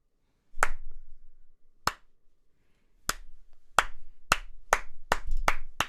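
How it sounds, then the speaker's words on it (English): A few people clap in a studio, starting with scattered single claps and then building into a quicker, irregular burst of close, crisp hand claps. "That was real applause."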